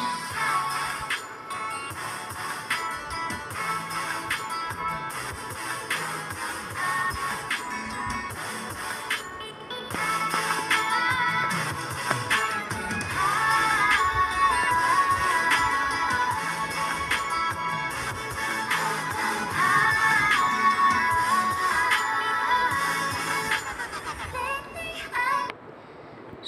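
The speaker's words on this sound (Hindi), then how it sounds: "तो अब मैंने सॉन्ग को ऑन कर दिया है और आप सुन पा रहे होंगे क्वालिटी।" A song plays continuously through Zebronics Thunder wireless headphones, steady, full and moderately loud for the whole stretch, with no talking over it.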